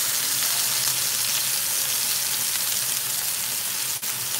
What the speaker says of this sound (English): Okay, there's the sear and the beef short rib.